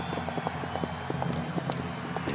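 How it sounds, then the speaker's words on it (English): Horses pulling two-wheeled chariots in an ancient Olympic race gallop at speed, their hooves beating out a rapid, steady clip-clop rhythm close by with no talking over it. "There was a chariot race, horses pulling two-wheel carts at a breakneck speed."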